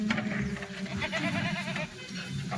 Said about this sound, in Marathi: 20 शेळ्या आता भावा कसं तरी 19 शेळ्या आहे, एक बोकड आहे.